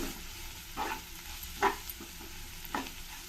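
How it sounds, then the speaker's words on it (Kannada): Fried bitter gourd is mixed in a pan, heard as three quiet scraping stirs spaced about a second apart over a low, faint sizzle. "ಆಲ್ರೆಡಿ ಹಾಗಲಕಾಯಿ ಸ್ವಲ್ಪ ಚೆನ್ನಾಗಿ ಫ್ರೈ ಆಗಿದೆ ಈಗ ಒಂದ್ಸಲ ಸುಮ್ಮನೆ ಒಂದು ಸ್ವಲ್ಪ ಮಿಕ್ಸ್ ಮಾಡ್ಕೊಳ್ತೀನಿ"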